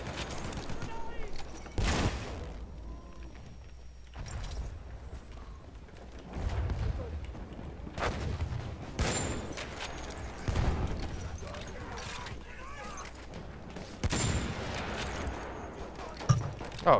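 Gunfire rattles in a Battlefield 1 match, with repeated bursts of shots and hard impact cracks spaced through the scene, some louder and close, while a player talks over the action.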